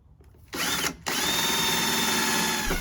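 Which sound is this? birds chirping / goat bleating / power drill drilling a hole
power drill drilling a hole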